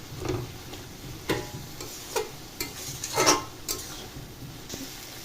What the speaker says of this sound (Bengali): চালের গুঁড়োটা ভালো করে মিশিয়ে নেব এর সাথে